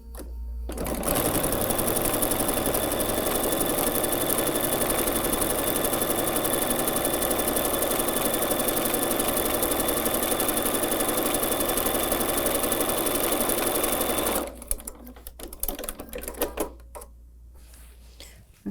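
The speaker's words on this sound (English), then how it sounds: "So I'll get this pinned and sew this seam as well." A sewing machine stitches a fabric seam on a Christmas tree table runner, running loud and steady for about fourteen seconds before stopping, followed by a few faint handling clicks.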